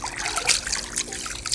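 Water trickling and splashing close by in shallow surf at a beach, a steady watery wash with small splashy bursts and no voices over it.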